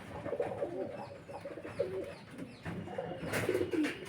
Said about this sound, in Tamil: இதான் அவரோட ஒரிஜினல் புறா பாருங்கள்